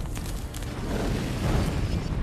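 Artillery shell impact explosion in a wartime setting, a heavy rumbling boom that swells and rolls on for a couple of seconds, loud and dense.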